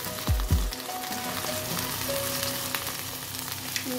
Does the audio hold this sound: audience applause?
no